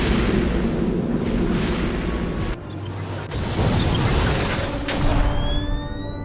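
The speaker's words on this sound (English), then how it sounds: "These explosions are shaking the very foundations" Explosions rumble through an Atlantean underwater station in the DC Universe Online game, deep sustained booming and crashing with a brief lull, then renewed roaring blasts and rising metallic tones.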